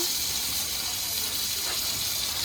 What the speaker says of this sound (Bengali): তো ফোড়নে দিয়ে দিচ্ছি জিরে, তেজপাতা, শুকনো লঙ্কা।